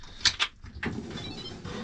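A caravan's curved kitchen drawer slides open or shut, heard as a quick pair of close scraping runs followed by a softer rolling glide and a settling thud, with no voices.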